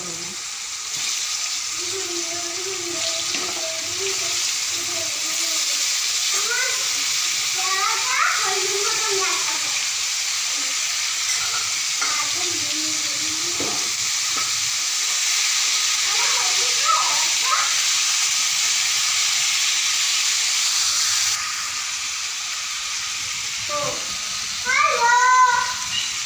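Fish and potato frying together in a hot pan, a steady loud sizzle and hiss throughout, with people talking over it.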